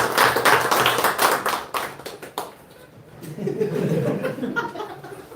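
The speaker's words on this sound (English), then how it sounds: "Clapping to all." Audience of learners clapping after a NEBOSH course presentation, a burst of loud, close hand claps for about two seconds that fades out, followed by chuckling and murmured talk.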